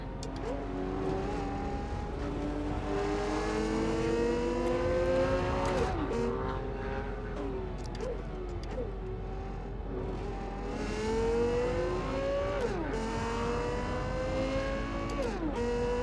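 A Toyota GR GT sports car engine drones and revs steadily, pitch climbing through gears then dropping sharply at each shift, sustained and close.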